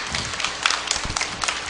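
Church congregation applauding during a Sunday afternoon worship service, a short burst of scattered hand claps with uneven sharp taps, moderately close and fairly light, no talking over it.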